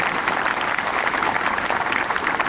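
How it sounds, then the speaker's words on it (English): A crowd at a school sports day applauds the band with dense, even clapping, steady and fairly loud throughout. "A round of applause for them."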